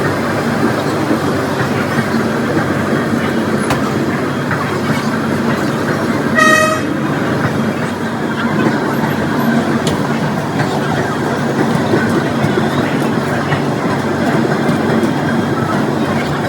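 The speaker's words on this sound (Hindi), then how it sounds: "चलो 5 मिनट होने के बाद डिपार्चर चुका सहारनपुर जंक्शन रेलवे स्टेशन से।" A Holi festival special train, Udhampur to Chhapra, pulls out of Saharanpur Junction railway station with a steady rumble of moving cars and one brief horn toot partway through.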